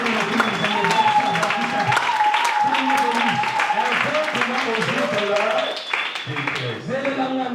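A church congregation at a Sunday service applauds and acclaims steadily throughout, the dense clapping sitting under voices singing and calling out in French.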